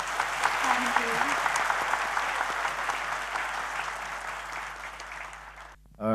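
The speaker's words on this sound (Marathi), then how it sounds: "सगळ्यांनी जोरात द्या टाळ्यांचं होऊन जाऊ दे गजर" A large audience at a corporate event claps loudly and continuously in a dense, sustained wave that tapers slightly before a short burst of noise at the very end; a voice is briefly heard under it.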